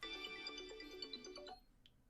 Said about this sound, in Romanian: Sună telefon.